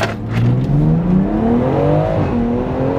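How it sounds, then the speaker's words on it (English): BMW X3M Competition launching hard, its engine howl sweeping steadily upward through the revs with a quick shift near the end, loud and close with tire and road roar underneath. "I'm about to give y'all a little launch"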